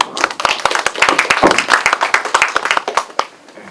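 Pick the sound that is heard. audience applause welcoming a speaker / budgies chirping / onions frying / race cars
audience applause welcoming a speaker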